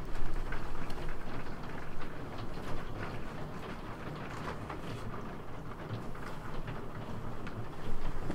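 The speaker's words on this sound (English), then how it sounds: "You now know what it sounds like when it rains over here." Steady rain falls outside, a dense hiss with scattered patters and a low rumbling undertone, moderately quiet and continuous with no voices.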